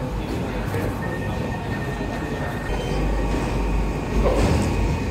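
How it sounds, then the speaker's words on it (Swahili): Underground train at a city station in Bonn, Germany, a continuous low rumble and rattling of rolling carriages that swells slightly toward the end, with people talking faintly underneath. "Sisi tushashuka na treni ndo hii."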